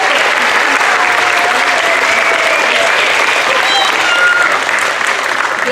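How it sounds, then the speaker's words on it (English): Audience applause at a school awards and promotion ceremony for young grades, a loud, dense, continuous wash of clapping from a large crowd with faint voices and cheers mixed in. "One more round of applause for K through second"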